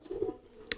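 A racing pigeon gives a soft, low coo, close by and quiet, followed by a short, sharper sound at the end.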